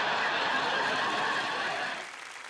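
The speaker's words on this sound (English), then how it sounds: "Oh, I like the applause. The applause is good." Studio audience applause on a comedy panel show, a dense, loud wash of clapping that holds steady and then thins out toward the end.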